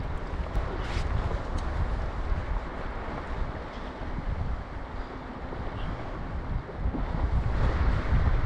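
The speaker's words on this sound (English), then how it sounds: "That's just the tide, the power of the water coming over that ridge." Tide water surging over a ridge at sea, a steady loud wash and rush of moving water mixed with wind buffeting the microphone, continuous throughout.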